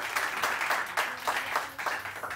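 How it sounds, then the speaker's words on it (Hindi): Studio audience applause on a morning TV talk show, a steady patter of many hands clapping at moderate loudness, a few individual claps standing out, with no talk over it. "तालियां जी, बहुत सारी तालियां"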